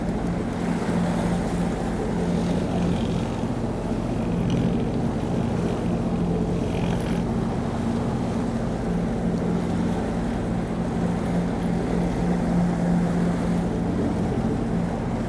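A boat's engine runs out on the water near Scat Rocks, a steady, loud low drone with wind buffeting the microphone and no voices throughout.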